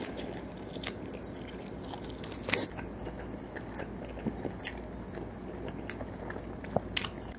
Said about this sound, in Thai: ผมขอกินเบคอนหน่อยนะฮะ